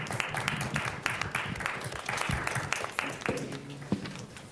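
Applause from attendees at a GRCC Student Alliance meeting, a fairly close round of clapping that swells and thins, with a few louder individual claps near the end.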